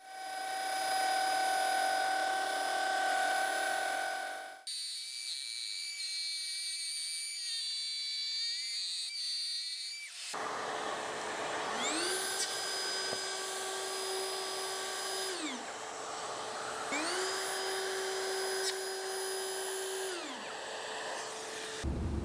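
A router whines at high pitch while trimming a wood recess for a router table insert plate, running in bursts: a steady scream, a lower-load stretch, then two repeated cutting passes with pitch dipping under load.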